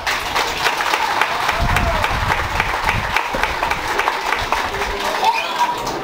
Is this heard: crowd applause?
yes